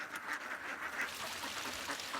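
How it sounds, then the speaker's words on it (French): A flock of ducks in rice paddies quacking continuously, many overlapping calls at moderate distance, steady and fairly faint. "L'éleveur arrive avec ses canards dans les rizières"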